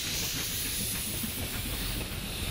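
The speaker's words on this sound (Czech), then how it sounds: "Topiči přikládali do kotle a tak se parní lokomotiva dala do pohybu." A steam locomotive hisses loudly as it starts moving, a dense continuous rush of steam with faint rail clatter underneath, close and unbroken.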